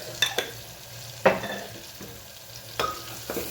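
Turmeric, red chilli, coriander-cumin powder, Kashmiri chilli and salt are stirred into hot oil in a pan, with a few sharp scraping knocks of a spoon over a steady low sizzle and no talking.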